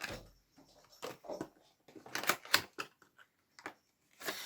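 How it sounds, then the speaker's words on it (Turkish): Packaging of a store-bought air-drying modelling clay kit being opened: a run of sharp crinkling, tearing and clicking bursts at close range, uneven and start-stop, with no talking. "Bugün bimden aldığımız hamur tarzı bir oyuncağımızı açacağız ve yapacağız. Açıyorum."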